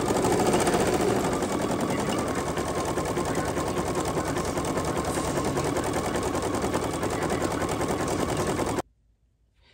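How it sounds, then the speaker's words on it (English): A home sewing machine runs steadily, stitching out a fabric applique block with a fast, even mechanical rattle for about nine seconds before stopping abruptly into near silence. "we're going to hop on over to the machine and stitch this out"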